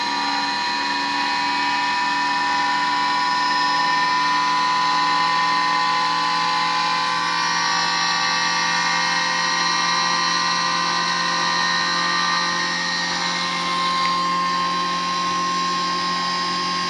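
A pulse motor rotor on a basic bench setup spins at very high speed, giving a loud, steady, high-pitched whine with layered tonal harmonics that holds throughout and rises slightly in pitch as it keeps accelerating.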